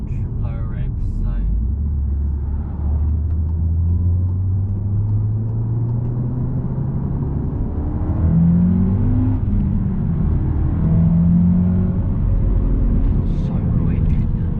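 A manual VW Golf R Mk7 accelerating from inside the car, its engine drone rising in pitch through the gears with a steady low rumble, close and loud throughout.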